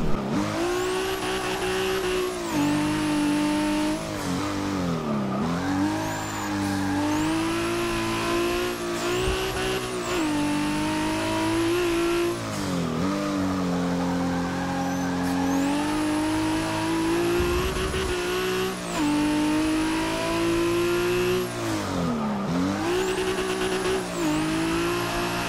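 Car drifting through a sequence of corners in Forza 6, played with a Logitech G920 wheel: a loud, high-revving engine rising and dropping with gear changes, with tire squeal through the bends. Continuous and close, no talk.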